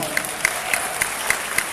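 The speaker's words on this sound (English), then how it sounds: "This is where you clap because I think I deserve a big round of applause" Audience applause at the SME Learning Conference 2018, a steady wash of many hands with sharper individual claps standing out at a regular beat, moderately loud and heard without talk.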